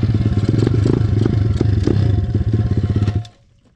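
A 2021 SSR 170TX pit bike engine idling close by, a loud rapid chugging pulse with some mechanical clatter that holds steady for about three seconds and then cuts off abruptly.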